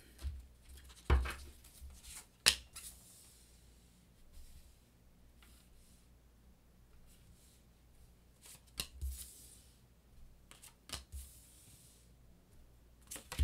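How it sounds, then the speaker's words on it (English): Tarot cards being cut and shuffled by hand in a quiet room, a few soft separated riffling and slapping bursts with long hushed pauses between them. "I'm going to cut the deck"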